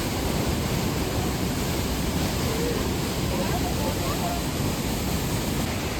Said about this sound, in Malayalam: ആ വെള്ളം വരുന്ന സൗണ്ട് നിങ്ങൾ കേട്ടോ.